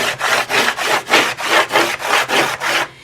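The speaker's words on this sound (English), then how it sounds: "All you do is take your piece of chalk and just rub it across" Chalk rubs back and forth across a painted chalkboard cabinet door in about ten steady, even strokes, loud and close, with a gritty scraping texture.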